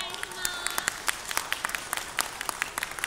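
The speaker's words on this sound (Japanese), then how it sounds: "皆様どうぞお手拍子心拍子で応援よろしくお願いいたします。" Spectators at the Daito Yosakoi festival clap along for a yosakoi dance team, scattered sharp hand claps over a steady outdoor crowd murmur, with voices talking in the background.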